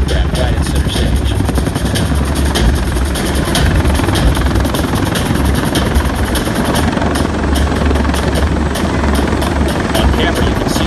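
A military helicopter hovers close overhead while Marines fast-rope down, its loud, steady rotor thump and turbine roar continuing unbroken throughout, with a voice talking over the noise.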